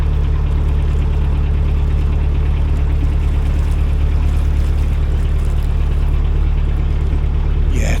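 A canal narrowboat's engine chugs on in a steady, fairly loud low drone while cruising, its revs held low and even throughout with no voices over it.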